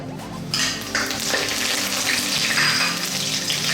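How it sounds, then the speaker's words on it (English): Curry leaves and rampa dropped into hot coconut oil for a Sri Lankan potato curry, bursting into a loud, close, sustained crackling sizzle after a quieter start. "I'm going to start by dropping in my curry leaves and my rampa."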